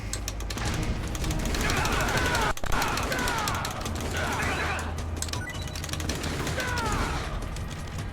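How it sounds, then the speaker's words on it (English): Third-person gunfire at guards in Metal Gear Solid: The Twin Snakes, continuous rapid shots with a sharp crack partway through, over steady game background noise. "Okay, I'm just going to third-person shoot these guards."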